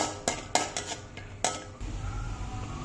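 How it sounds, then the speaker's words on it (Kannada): Cashews are roasted in a pan for lotus seed kheer, with a spoon knocking and scraping against the metal in several distinct clinks, followed by a soft steady sizzle. "ಈಗ ಹುರ್ಕೋಬೇಕು ಗೋಡಂಬಿನ"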